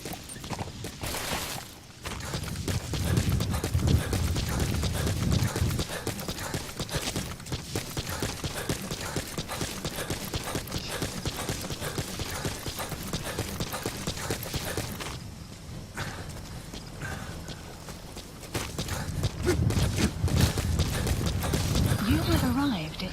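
Steady clip-clop of horse hooves in Metal Gear Solid V: The Phantom Pain, over a busy game soundscape, with occasional voices and mechanical noise mixed in.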